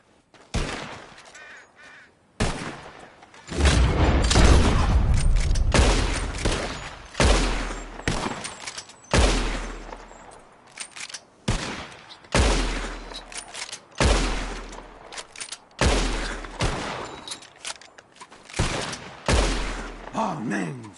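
Gunshots ring out in Red Dead Redemption 2, a dense volley of sharp cracks followed by about a dozen loud, evenly spaced single shots that repeat every second or two.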